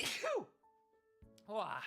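A single loud sneeze bursts out, a short pause of quieter sound follows, then a second vocal burst; speech comes around it.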